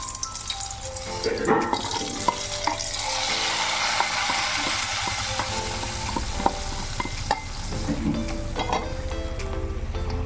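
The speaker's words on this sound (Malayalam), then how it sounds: "കൊച്ചുള്ളി കടുക് കരിയാപ്പല പത്ത് മുളകയിലായിട്ട് വറുത്തു കോരി കടുക് താളിക്കാം" Mustard seeds, shallots, curry leaves and chillies tempered in hot oil for a Kerala-style roasted-coconut chicken curry, giving a continuous close sizzle with scattered sharp pops and crackles throughout, no talking.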